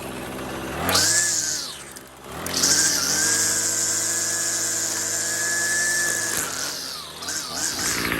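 A Troybilt TB35 small engine runs after a carburetor replacement, revving up, dipping briefly, then holding a loud, steady high-pitched whine close by before it drops and stutters near the end.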